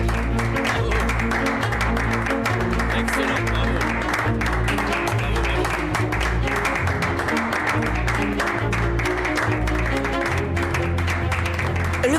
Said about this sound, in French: veuillez applaudir notre nouveau directeur de la bioinformatique, Alonso Cancino